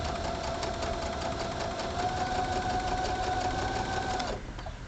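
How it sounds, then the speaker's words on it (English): A Janome or Baby Lock sewing machine stitches fabric in a fast, steady mechanical whir that runs loud and close for over four seconds, then stops abruptly. "that's your needle down pivot feature found on both Janome and Baby Lock sewing machines"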